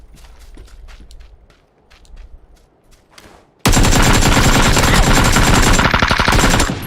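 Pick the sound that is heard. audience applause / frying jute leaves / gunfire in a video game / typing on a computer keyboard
gunfire in a video game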